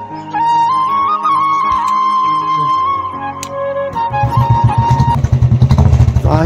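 Royal Enfield motorcycle with a new aftermarket exhaust running close by, a steady idle that breaks into a deep, rapid thumping exhaust beat as the throttle opens near the end.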